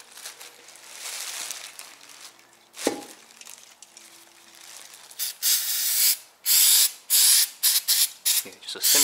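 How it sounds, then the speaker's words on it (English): Brake cleaner is sprayed onto a new brake rotor for a Lotus Elise in a series of loud hissing bursts of varying length, after a single dull knock and some quiet handling noises. "just a simple spray."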